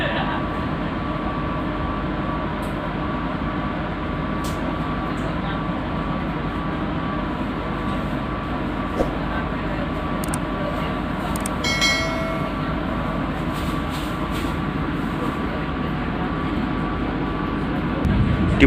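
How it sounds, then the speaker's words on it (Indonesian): The Majapahit passenger train rolls into Walikukun station at night with a steady, heavy rail rumble. Brief wheel squeals come near the middle, and the noise stays loud throughout. "Pada pukul 23:20 kereta api Majapahit sampai di stasiun Walikukun"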